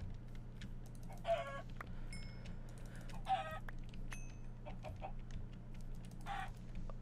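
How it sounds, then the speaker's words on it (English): Minecraft chickens clucking in short bursts, three or four quiet cackling calls over a low steady game background hum, with no speech. "I found a lot of chicken"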